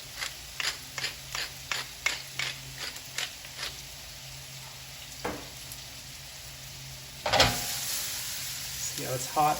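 A hot pan for pork fried rice: a quick series of crisp ticks, a quiet stretch, then a loud burst of sizzling near the end that settles into a steady fry.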